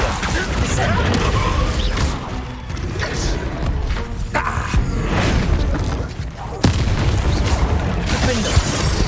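Descendo spell impact in the video game Hogwarts Legacy during a final battle, heavy thuds and booming crashes in a dense, loud combat mix with overlapping effects and voices.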